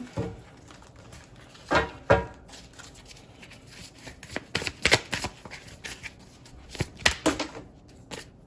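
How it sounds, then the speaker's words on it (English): Tarot cards being shuffled by hand, a steady soft riffling broken by several louder slaps and flutters as the deck is cut and squared, close and with no talking. "So we're just gonna keep shuffling."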